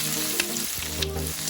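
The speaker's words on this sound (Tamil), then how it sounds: "இதுக்குள்ள நான் கேப்சிகத்தையும் போடுறேன்." Capsicum frying in hot oil while making salsa chicken, a steady broadband sizzle with a couple of brief sharper pops and a low hum beneath, close and continuous.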